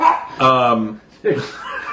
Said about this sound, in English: Welcome to my world with this dumb dog.